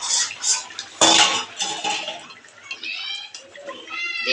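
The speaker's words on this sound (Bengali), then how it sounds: "ঢাকনাটা আমি খুলে দেব।" A metal lid clatters off a cooking pot of simmering kohlrabi curry, with a sharp clank near the start followed by softer kitchen clinks, bubbling and scraping nearby.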